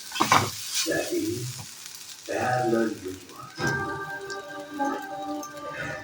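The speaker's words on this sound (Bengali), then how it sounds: "তারপরে গোলমরিচ, নুন, মিষ্টি এই দিয়ে এটা জাস্ট একটু ফ্রাই করবো" Shredded cabbage stir-fried with pepper, salt and sugar in a pan, with crackling sizzle and tossing scrapes coming in bursts, partly overlapping with voice-like sounds, moderately quiet.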